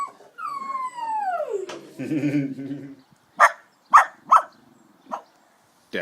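Two dogs at the Bluebell Inn give a long falling whine and whimpering, then several sharp loud barks spaced through the second half, with brief human speech near the start.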